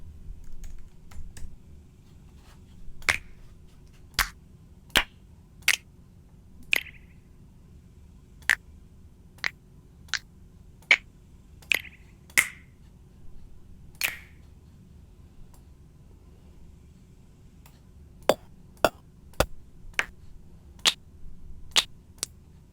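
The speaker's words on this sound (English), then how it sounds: "Let's look for a snap." Finger snap samples are auditioned one at a time in a Logic trap beat. Short, sharp, dry snaps come at irregular intervals over a quiet low hum, with no talk.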